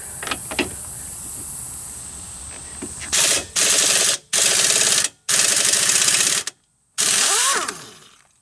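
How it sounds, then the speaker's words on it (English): Bottom strut nut coming off a Chevy Cobalt's front strut under a power tool, several loud whirring bursts separated by short pauses after some light clinking, close up with no talking. "We're just going to screw off the nut."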